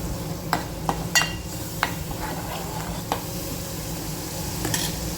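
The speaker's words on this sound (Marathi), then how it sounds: "आपण याला तेल सुटेपर्यंत मसाला फिरवत राहायला पाहिजे" Masala spice paste being stirred and fried in oil in a pan for a fish curry: a steady close sizzle, with a few sharp spoon scrapes and knocks scattered through it.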